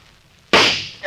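A single sharp gunshot effect in an old radio drama, a sudden crack that decays over about half a second with no voices over it.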